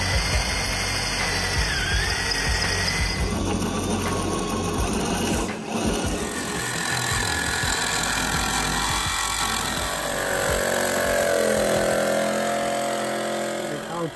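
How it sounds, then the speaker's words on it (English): A saw cuts steadily through the metal of a BMW E36 strut top plate along a marked line, giving a loud, continuous buzzing grind that runs the whole time with one brief dip midway. "I let the saw go in there for a couple millimeters"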